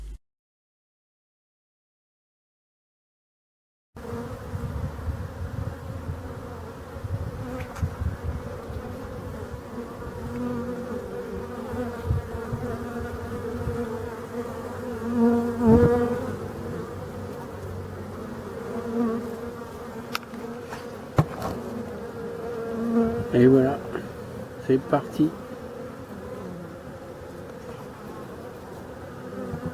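A busy rural apiary hive in Brittany hums with honeybees streaming in laden with pollen, a dense continuous buzz close to the entrance with individual bees zipping past, after a brief opening silence and a short spoken French phrase.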